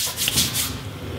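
Lush powder balm being rubbed onto skin, a soft close dry brushing friction with a few brighter swishes, steady and quiet with no talking.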